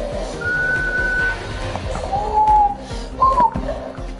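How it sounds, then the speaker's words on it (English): Three short whistled tones, each a steady pitch, sounded through a Lego piece over a busy background hum. "this Lego makes me whistle"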